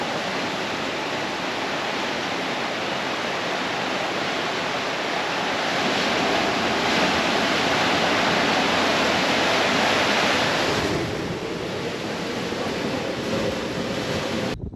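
Ocean waves surge at the end of a sea tunnel on Easter Island, a loud, continuous rushing roar of surf with heavy wind-like noise that swells in the middle and eases slightly near the end.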